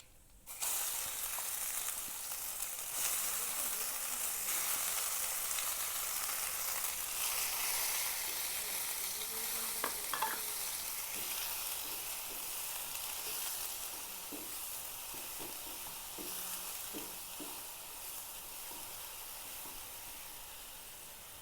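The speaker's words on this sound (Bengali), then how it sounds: "কালো জিরেটা ভাজা হয়ে গেছে এবার আমি এই বেটে রাখা পেস্টটা এর মধ্যে দিয়ে দেবো" Ground paste dropped into hot oil with black cumin seeds, a loud burst of sizzling at first that slowly eases into a softer, steady fry with a few stirring clicks.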